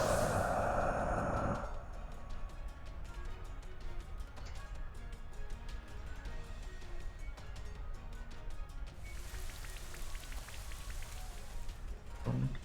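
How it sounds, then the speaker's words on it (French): Rain weather effect in a Pokémon-style video game battle, a soft steady patter of rain loops behind other game sounds, with short bursts of louder effects at the start and near the end. "Donc on met la pluie."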